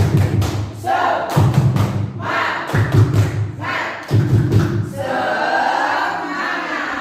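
A room of adults does a rhythmic chant clap at a positive-culture training session, with loud, punchy bursts of group claps in a patterned rhythm and voices shouting along.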